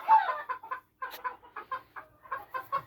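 A Phoenix chicken, a long-tailed show breed, clucks in a quick series of short, close, moderately loud notes with brief gaps between them, heard alone with no other sound.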